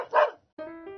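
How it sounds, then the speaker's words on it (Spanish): A dogo argentino dog gives a loud, close bark followed by a tonal, whining yelp, two distinct vocal bursts separated by a brief pause, with no talking. "En el mes de enero tenemos un hermoso dogo argentino"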